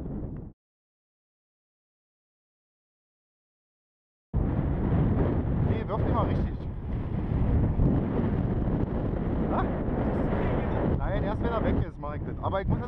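Strong wind buffets a microphone outdoors at the maiden flight of a Wing Wing Z-84 model plane, a loud continuous rumbling roar after a brief burst and a few seconds of silence, with faint voices underneath.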